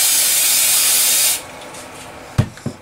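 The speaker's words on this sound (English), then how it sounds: "Rinse that with some carburetor cleaner." Carburetor cleaner sprays in one steady, loud hiss onto a small-engine piston during a Kohler KT17 rebuild, running about a second and a half before cutting off, followed by two brief clunks.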